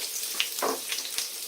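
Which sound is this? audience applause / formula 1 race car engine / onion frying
onion frying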